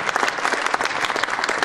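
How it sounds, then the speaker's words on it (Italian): An audience at an Italian conference on society, economy and money applauds an invited guest, producing dense, even clapping that fills the room without pause. "un applauso."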